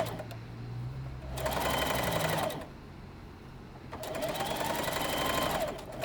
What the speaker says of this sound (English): sew a straight stitch all the way across the top fold of your bag